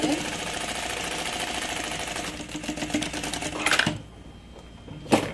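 A sewing machine stitches a seam in a continuous rapid run that halts partway, followed by a few light clicks and handling noises in a quieter room.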